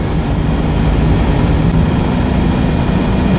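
A Citroen Dyane's small engine pulls in top gear, accelerating up a hill, a steady droning rumble that stays loud and even throughout with no talk.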